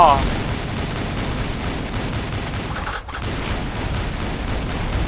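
Dense continuous gunfire from the online shooter game Avatar Star rattles throughout, rapid overlapping shots with a brief dip midway, under excited player chatter.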